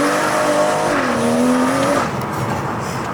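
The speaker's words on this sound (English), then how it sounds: "That sound where it just slaps the limiter for a second and you let off." A BMW M240i engine, tuned to around 450 bhp, howls at high revs and briefly holds at the rev limiter before the throttle lifts and the note drops away, loud and close.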